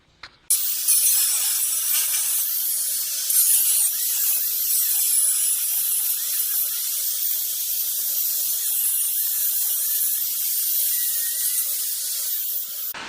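A cutting torch hisses steadily and loudly for the full length while working on a GM 14 bolt axle, with a brief clank at the start and no pauses.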